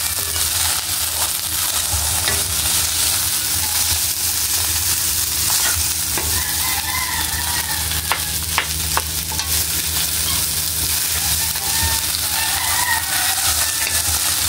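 Garlic fried rice being stirred in a hot pan, with a loud steady sizzle, repeated scraping and clacking of the spatula, and a rooster crowing in the background at intervals.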